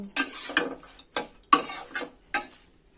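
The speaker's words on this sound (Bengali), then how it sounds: "লবণ হলুদ দিয়ে ভালোভাবে শাকটা এভাবে মিশিয়ে নিব।" Water spinach greens being stirred with salt and turmeric in a pan, about seven short scraping strokes of a spoon against the pan in a steady rhythm, close and fairly loud.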